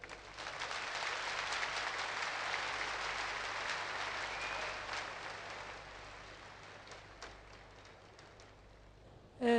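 Steady applause from a large crowd at an Alevi cem ceremony in a sports hall, fairly distant and even, gradually thinning toward the end.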